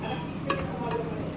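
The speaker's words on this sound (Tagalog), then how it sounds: "Haluin lang muna natin." A utensil scrapes and clinks against a pot a couple of times over a steady low sizzle of cooking.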